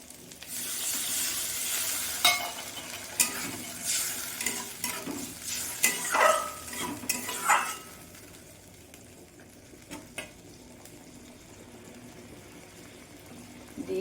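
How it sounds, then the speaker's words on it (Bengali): Spice paste is stirred in a pan for a Bengali soybean and potato curry, with scraping strokes and soft sizzling. Sharp scrapes come close and clear early on, then fade to a quieter, steady sizzle. "মশলাটা দিয়ে অল্প একটু নেড়ে চেড়ে নিয়েছি।"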